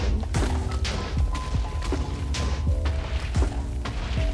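TNT explosions from a carpet bomber in Minecraft 1.19.2: a steady run of heavy, booming thuds and crashes, several detonations overlapping in close succession with no talking.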